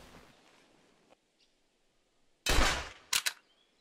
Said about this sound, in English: You shoot right through them.